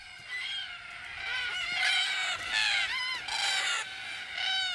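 Many cockatoos call at an evening watering hole, with a dense, loud chorus of harsh, raucous screeches overlapping continuously, some birds near and others farther off.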